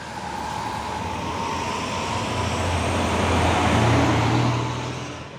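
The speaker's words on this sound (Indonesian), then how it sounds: "Truk trailer Hino 500 Euro 4" A Hino 500 Euro 4 trailer truck drives past with a steady, loud engine and road roar that builds to a peak and eases slightly as it passes, heard with no talking.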